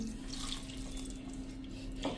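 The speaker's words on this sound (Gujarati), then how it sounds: "અને 1/4 કપ જેવું આપણે પાણી નાખી દેશું." Water poured into a cooking pot while making gravy for a Punjabi-style curry, a steady, fairly quiet splashing stream that runs evenly for about two seconds with a slight rise near the end, heard alone without voices.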